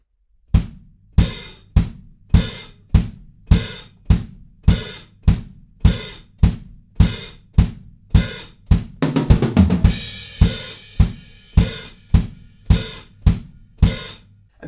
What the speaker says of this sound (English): Then we're into our pre-chorus where it breaks down to just 4 on the floor,